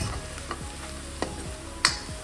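Onions fry in a pan for Rajasthani dal-bati, a steady sizzle with a few light spoon taps and scrapes stirring them, close and continuous.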